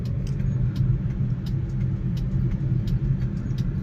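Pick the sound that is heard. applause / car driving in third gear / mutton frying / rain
car driving in third gear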